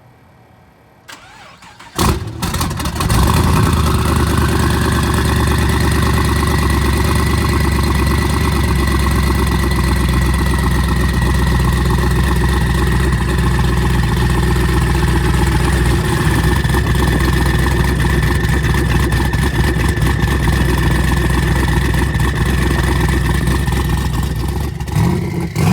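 A 1500 HP 2010 Camaro SS engine cranks over after a brief quiet moment, then settles into a loud, steady, close idle with a constant deep drone that holds for the rest of the stretch.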